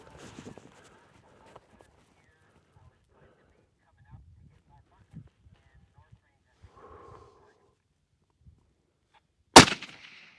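A single sharp, loud rifle shot cracks out near the end during a scoped rifle shooting test with a Leupold CDS dial, after a mostly quiet stretch with faint murmurs and small thumps.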